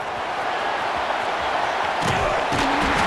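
Stadium crowd in EA Sports College Football 26 roars steadily for a punt return, a dense continuous wash of cheering that swells louder about two-thirds of the way through.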